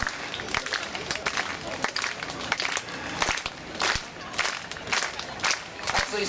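Audience clapping along in rhythm at a sword-swallowing contortionist's live show, a string of sharp, fairly regular claps from the crowd with some murmur underneath.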